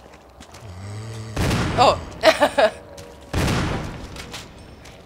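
Weapon fire in Resident Evil HD Remaster, with a loud blast, a quick run of three sharp shots and another heavy blast, over low ambient game sound and a brief voice.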